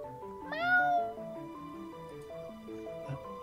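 A single cat meows once, loud and close, over soft background music with a steady melody.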